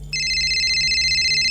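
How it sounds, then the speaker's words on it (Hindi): A phone rings with a steady, bright electronic tone that starts abruptly and continues without pause, close and fairly loud. "देखना किसका फोन है।"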